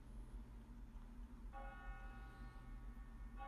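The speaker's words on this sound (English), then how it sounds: "I can hear the bells of the college calling across the trees from here." College bells ring in the distance across trees, a faint tonal peal entering partway through over a low ambient rumble, soft and far off.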